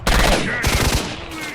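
Gunfire in S.T.A.L.K.E.R.: Shadow of Chernobyl: a loud, close burst of rapid automatic shots, a brief gap, then a second rattling volley that trails into echo.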